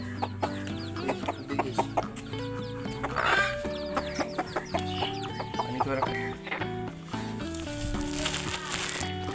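Young chicken chicks gathered around a water container cluck and peep close up, a busy scatter of short calls and chirps, with an occasional deeper cluck.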